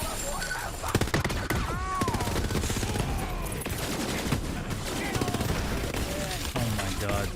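Gunfire in a chaotic video game firefight, with dense, continuous bursts of shots and explosive impacts filling the whole stretch, loud and busy, with a voice talking over the action.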